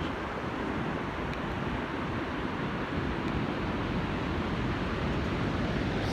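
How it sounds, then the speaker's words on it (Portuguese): Sea waves roll onto the beach at Praia Grande under overcast weather, a continuous loud broadband wash mixed with wind buffeting the microphone, with no talking. "Bora lá então ouvir o som do mar?"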